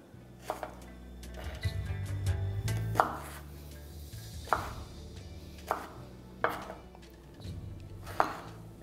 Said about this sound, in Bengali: সবার প্রথমে এখানে আমি কেটে নিচ্ছি ঝিঙেটাকে